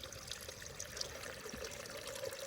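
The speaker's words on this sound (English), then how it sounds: "This is a spring." A small spring trickles and bubbles in a snowy forest at a Virginia campground, a soft continuous flow heard up close and fairly faint, with no talking.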